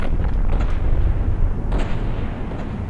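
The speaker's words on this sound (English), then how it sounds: "I think that was the ammo in the front blowing up." In a tank combat video game, ammunition cooks off inside a tank as a dense, rumbling blast with sharp explosive cracks, loud and sustained for a few seconds, with no talking.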